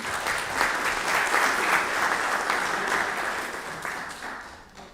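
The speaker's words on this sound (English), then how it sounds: "give them a round of applause" Audience at a city board of mayor and aldermen meeting gives a sustained round of applause, dense steady clapping that holds for several seconds before tapering off at the end.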